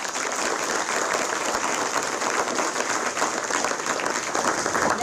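Students and teachers applauding at a school welcome on reopening day, a dense continuous wash of clapping and cheering throughout, loud and even.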